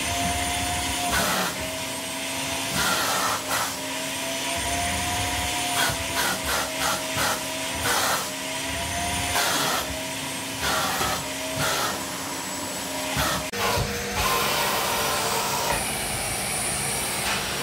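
A Parkside PWD 30 B1 wet and dry vacuum cleaner running up close with a loud, whining motor and hissing airflow, its suction pitch shifting repeatedly as the nozzle is moved and blocked.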